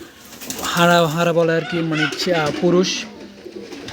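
Pigeons coo in pairs at a pigeon farm, where someone talks loudly and closely throughout. The soft cooing runs underneath his voice.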